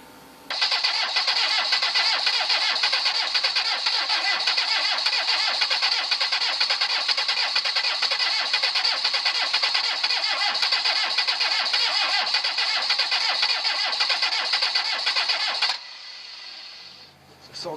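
A Citroën CX 2200 D diesel cranks on and on in one long continuous churn without catching, loud and close, then cuts off near the end, leaving a quieter low rumble.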